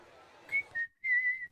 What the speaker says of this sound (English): Do you whistle while you work?